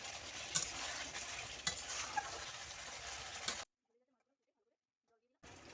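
Pangas fish pieces sizzle in spiced masala oil with stirring scrapes, loud and close, for several seconds before cutting to sudden silence and then returning briefly.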